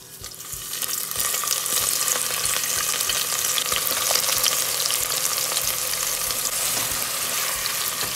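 Onions sizzle loudly in hot oil in a pan for mutton pulao, a steady bright frying hiss that builds in the first second, with faint stirring knocks underneath.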